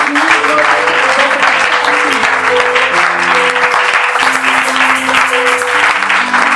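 A congregation in church applauds and cheers, with a loud, continuous mass of clapping and voices over sustained music tones that run the whole time.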